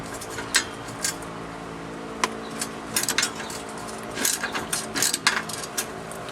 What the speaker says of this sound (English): you will need a 13mm shallow socket and a ratchet